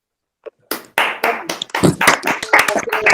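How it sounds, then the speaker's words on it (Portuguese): Online audience members clapping for a speaker after unmuting their microphones, scattered claps starting one by one and building into dense, uneven applause with some talk mixed in. "le brindemos un fuerte y caluroso aplauso a nuestro querido expositor"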